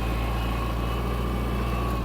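A Kubota X-20 Japanese mini tractor with a rotary tiller attached, its engine running at a steady low drone and hum, continuous and even.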